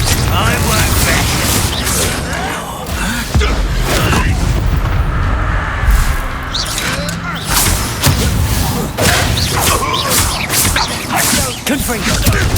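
Confringo spell blasts go off in Hogwarts Legacy, repeated loud booms and thuds amid dense combat noise, with voices speaking over the action.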